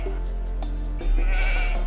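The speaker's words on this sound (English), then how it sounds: "ooh, there's some sheep." Sheep bleating in the real-time strategy game Age of Empires 2, several short bleats over steady game ambience with a louder burst partway through.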